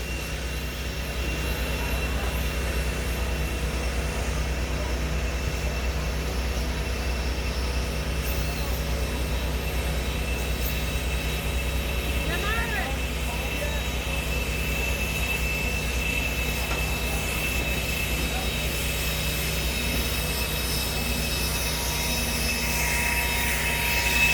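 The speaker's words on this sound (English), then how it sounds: "As soon as the jet dryer gets off the track" A jet dryer drives on a race track, giving a steady, loud turbine roar with a constant whining hum that persists unbroken, without notable rise or fall.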